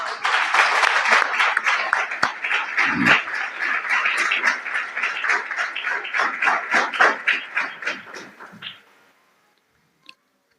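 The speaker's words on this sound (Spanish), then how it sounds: "¿Cuánto le damos un aplauso al Señor?" A church congregation claps for the Lord in a lively round of applause, quick rhythmic hand claps mixed with cheering voices that fade out after about nine seconds, followed by near silence and one faint tap.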